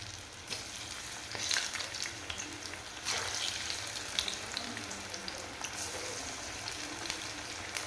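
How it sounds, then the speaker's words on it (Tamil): Cauliflower pieces fry in hot oil in a home kitchen, giving a steady, fairly quiet sizzle with scattered crackles and pops. No one talks. "எண்ணெய் சூடாயிடுச்சுங்க, நம்ம இப்போ வந்து காலிஃப்ளவர் ஒன்று ஒன்றா போட்டு எடுத்துக்கலாம்."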